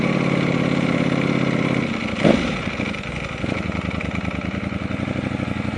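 A crashed 2018 Ducati Panigale V4 Speciale engine runs close by with a steady idle rumble, dips briefly with a sputtering stumble as if nearly stalling, then settles back into a rough, even idle.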